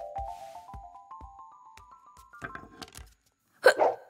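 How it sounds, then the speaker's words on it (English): Cartoon character Igam Ogam hiccuping, several sharp hiccups punctuating a rising xylophone-like melody, followed by a louder squeaky burst at the end. "Have you got hiccups"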